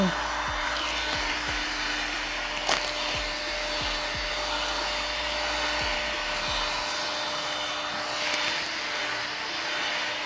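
Heat gun warming car vinyl wrap during removal, a loud, steady blower roar with a constant whine running throughout, close to the listener, with a few faint knocks in the background.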